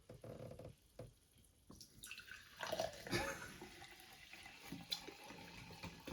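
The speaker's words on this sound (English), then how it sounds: "May you please pour me my ceremonial beverage?" Topo Chico sparkling water pours into a glass with a fizzing, splashing gush that starts faint and builds, followed by scattered drips.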